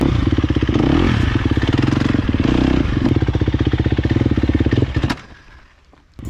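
A motorcycle with a front wheel that isn't tracking properly is ridden close by, its engine loud and rattling for about five seconds before dropping off sharply to a low idle, then picking up briefly at the end.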